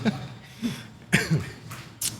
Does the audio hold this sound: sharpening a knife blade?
no